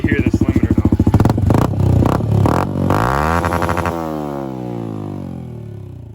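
A tuned Honda CRF110 dirt bike engine with raised redline revs hard and bounces off its rev limiter in rapid stuttering pulses, then the revs fall away, loud and close with no talking.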